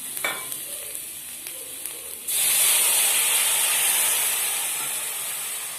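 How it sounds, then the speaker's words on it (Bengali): Water poured into a hot pan of fried vegetables: quiet faint frying at first, then a sudden loud rush of hissing steam that stays strong and slowly eases off. "সবজিটা পুরো ভাজা হয়ে গেছে। এরপর আমি এতে জলটা দিয়ে দিচ্ছি।"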